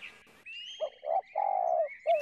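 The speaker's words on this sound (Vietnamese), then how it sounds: "Tập tành nuôi cho nó hót nghe chơi mày" Caged songbirds kept at a home give a series of close, clear chirps and cooing notes, several short calls and one longer drawn-out note, with no talking.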